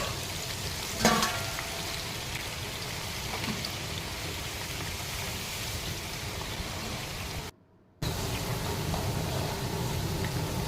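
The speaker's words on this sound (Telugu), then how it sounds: "కట్ చేసుకున్న ముక్కలు ఆయిల్ పోసుకొని ఆయిల్లో వేపుకుందామండి" Pieces of cut bitter gourd fry in hot oil with a steady, dense sizzle throughout, one brief louder crackle near the start and a short drop to silence near the end before the frying resumes.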